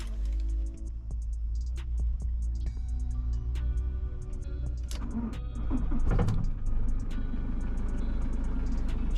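A car engine, cold after standing parked for two days, runs with a steady low idle rumble, joined midway by a brief louder rev and some clunks inside the cabin.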